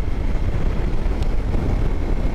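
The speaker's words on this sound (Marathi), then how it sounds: "एकदम जोरात वारा सुटला आहे अचानक" Strong gusting wind buffets the microphone as a vehicle travels from Mumbai toward Khopoli in rainy weather, a steady loud rumbling roar with no voices.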